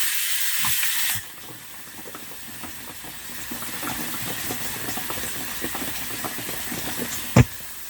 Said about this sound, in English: I put the sprouts into a colander to rinse them off.